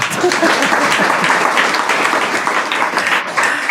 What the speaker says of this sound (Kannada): ಇಷ್ಟೆಲ್ಲ ಮಂದಿ ಚಪ್ಪಾಳೆ ತಟ್ಟಿದ್ರು